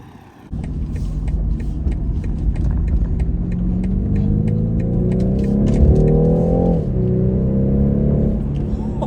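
A 2021 BMW 4 Series coupe pulls away on the road, its engine rumbling into life and building into a rising acceleration that peaks before a gear change. The engine stays loud and close inside the cabin.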